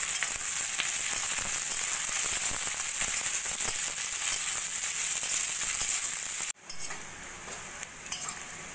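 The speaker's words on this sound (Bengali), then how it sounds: "এই পেঁয়াজটা আমি প্রথমে ভেজে নেব, সোনালি করে ভেজে নেব।" Four large sliced onions fry in hot oil in a wok, a dense, steady sizzle with scraping stirs running throughout, then a sudden drop to a quieter clatter near the end.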